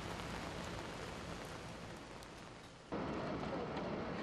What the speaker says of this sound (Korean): 비가 쏟아지는 밤까지